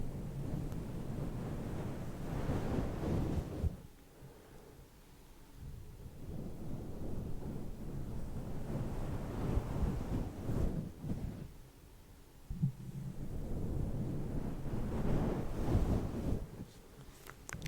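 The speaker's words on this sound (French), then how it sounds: "Le bruit des vagues." Ocean waves on a calm beach roll in as low, rushing swells that rise and fall in slow surges, with gusty wind noise over the microphone.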